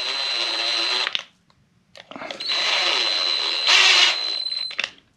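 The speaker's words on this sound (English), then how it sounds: "I'm gonna use a power tool here, which I don't recommend doing" A power drill whirs steadily driving a fastener on a KOMOTO M1100 160mm rear rotor, stops briefly, then runs again, slowing and straining toward the end, close and loud.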